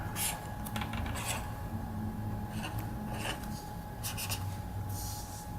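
A pen scratches across paper while drawing a diagram, in short bursts of strokes separated by pauses, close and quiet over a faint steady hum, with no talking.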